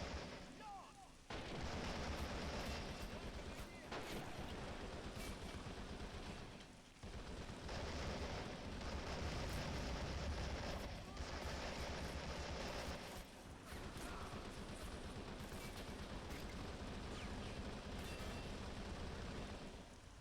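Battlefield gunfire in the real-time strategy game Men of War Assault Squad 2, a loud, dense barrage of shots and blasts running almost without pause and dipping only briefly, with no voices.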